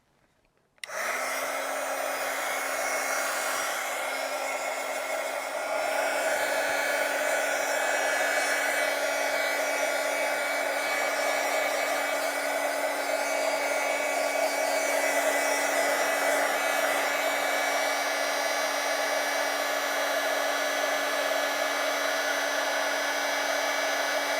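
A hair dryer clicks on after a brief silence and roars steadily and loudly up close for over twenty seconds while drying a DIY fall tray, with no one speaking.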